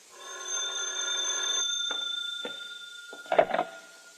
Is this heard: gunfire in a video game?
no